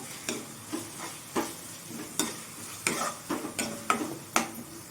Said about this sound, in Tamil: இப்போது இந்த தக்காளி நல்லா வதங்கட்டும்